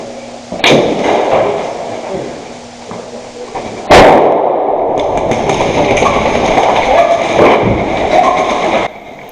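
Grenade blasts go off in a video game stairwell: two sharp, loud explosions with rumbling, hissing tails, followed by sustained noisy gunfire-like clatter, close and heavy throughout.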